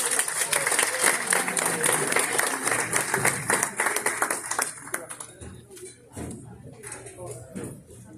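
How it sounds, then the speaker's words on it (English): Audience applause at a conference stage event, a dense wash of clapping that is loud at first and then thins and fades into scattered claps, with voices partly heard over it. "Give them one more round of applause."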